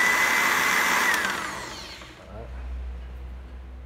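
A used Japanese countertop blender with a push-release button runs with a loud high whine that winds down after about two seconds and leaves a low hum.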